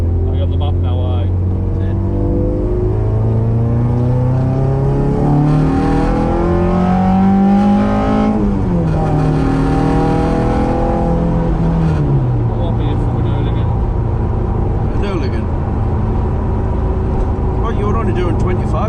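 A Ford Escort MK1 RS 2000 on its first drive: the engine note climbs steadily through the revs, drops sharply at a gear change, then climbs again, droning loud and close from inside the car with faint voices underneath.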